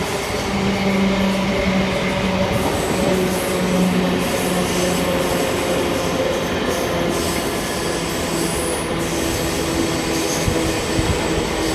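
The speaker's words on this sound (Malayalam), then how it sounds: "നമ്മൾ നേമം സ്റ്റേഷനിലേക്ക് അടുക്കുകയാണ്." A train rumbles steadily on the rails as it approaches Nemom station, with loud continuous wheel and carriage noise and occasional high squeals throughout, no voices.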